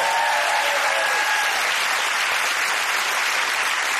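Studio audience applause on a British comedy panel show, a loud, dense burst of clapping filling the whole four seconds at an even level, with no voices heard.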